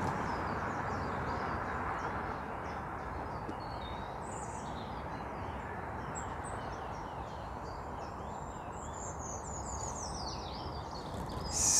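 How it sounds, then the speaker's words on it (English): A treecreeper sings a thin, high, descending trill somewhere ahead in woodland before dawn, faint and distant above a steady low background hum. "Singing Treecreeper."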